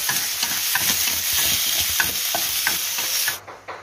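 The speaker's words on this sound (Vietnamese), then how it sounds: "Ớt ha, cho vô xào luôn ha." Chili being stir-fried in a hot oiled pan, a loud continuous sizzle broken by scraping stirs and crackles, close up, with no one talking, before the sound cuts off near the end.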